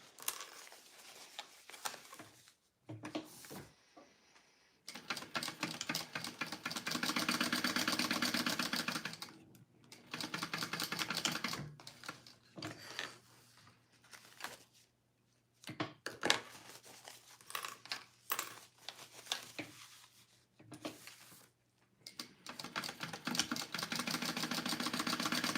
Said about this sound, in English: I'm just top stitching.